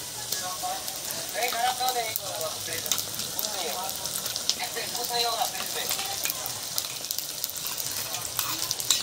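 Spices sizzle and fry with browned onions in a pan for chicken curry, a steady close crackle with stirring scrapes throughout, while a voice speaks faintly in the background.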